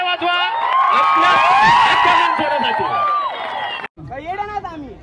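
Loud crowd at a men's wear shop opening, dense cheering, whooping and shouting with chatter, sustained for about four seconds, then a brief drop before more excited voices return.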